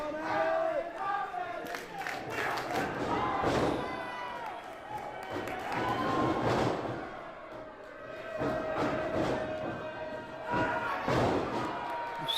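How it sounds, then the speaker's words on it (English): A professional wrestling crowd cheers and roars in swelling waves, loud and continuous, with occasional thuds from the ring and voices talking over the noise. "you can hear the crowd giving Alan his props"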